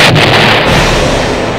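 An explosion sound effect on a Brazilian TV program, a loud, close, roaring blast that fills the moment and fades slowly into rumbling noise.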